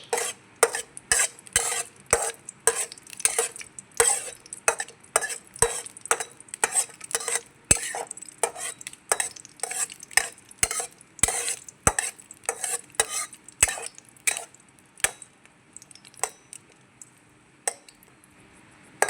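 Cashews and raisins being stirred and fried in a pan, heard as a rapid, continuous series of close metallic clinks and scrapes from a spoon over a soft sizzle, slowing toward the end.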